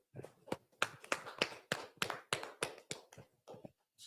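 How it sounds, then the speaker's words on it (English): Hands clap in a brisk, fairly regular rhythm, a dozen or so crisp claps close by and moderately quiet, with no talking. "Let's clap it up."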